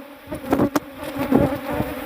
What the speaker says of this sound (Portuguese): A caixa tem muita abelha para se sustentar.